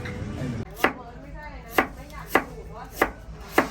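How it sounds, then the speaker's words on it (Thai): Knife chopping ginger on a cutting board in a kitchen cooking Thai food, five sharp, evenly spaced thuds after a brief muffled start, close and distinct with no talking. "นี่เรากำลังหั่นขิงกันอยู่นะ"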